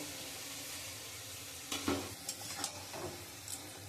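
Fried prawns stir-fried with turmeric and chilli powder for a banana-flower dish (mochar ghonto): quiet background hiss, then a few close scraping stirs and soft sizzling bursts in the second half.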